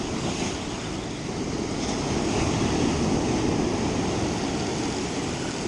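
Continuous roar of ocean surf breaking on a beach at sunset during a striped bass blitz, steady and loud with wind noise and no talk.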